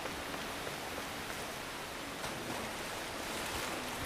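Steady rushing waterfall ambience in the video game Tales of Arise, a continuous broadband wash of falling water that stays even and loud throughout with no talking.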